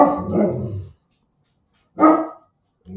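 Several dogs, five in all, barking indoors in short loud bursts separated by silences, with no talk between the barks.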